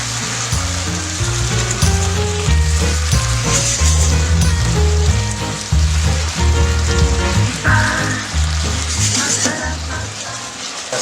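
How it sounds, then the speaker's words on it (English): Bulgogi beef and vegetables in marinade sizzle loudly in a pan, a strong, continuous frying hiss with bursts of crackle and stirring, close up and without speech. "marinade into a pan as well. Cook this until all the vegetables are cooked."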